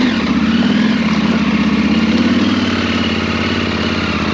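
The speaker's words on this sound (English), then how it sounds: "This is slower than my bike wants to go, so I have to pull in the clutch and let it slip." Motorbike engine running slowly off-road with the clutch slipping, a loud, steady, close droning hum with a fast pulsing throb throughout.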